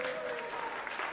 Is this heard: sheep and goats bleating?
no